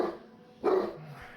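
A dog barks once sharply, close by, followed by a short whine, in a Minecraft survival game; no one speaks over it.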